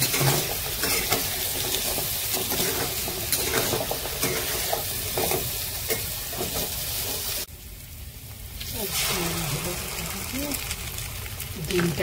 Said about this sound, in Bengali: আলু আর পেঁয়াজ একসাথে ভাজা করতে হবে।